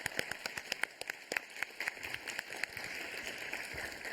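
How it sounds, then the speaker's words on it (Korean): Applause in a National Assembly budget committee meeting, offered in support of farmers: a faint, brief round of scattered hand claps from a small group in a hearing room, quickly tapering off. "그럼 우리 농업인들 힘내시라고 박수 한번 치겠습니다."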